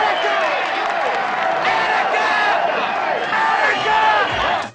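A large crowd gathered around a bank, from a film, fills the scene with a dense, continuous roar of overlapping shouting voices and cheering, loud and steady throughout.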